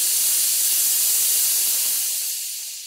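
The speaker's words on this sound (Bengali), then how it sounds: "ডাল তো প্রেশার কুকারে সেদ্ধ হচ্ছে" Steady loud hiss of steam escaping a pressure cooker as dal boils inside, a broad continuous rush that holds level and then fades slightly at the end, with no voices.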